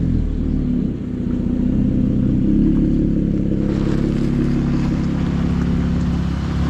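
Exhaust of a Jeep Gladiator rumbles deep and steady as the truck backs out of a shop, a loud, close, low drone with a slight lift partway through.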